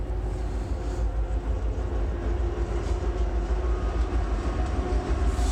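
At Littleton/Mineral Station a coal train rolls past with a steady low rumble and faint rhythmic clatter of wagons over the rails, continuous and fairly close, with no talk.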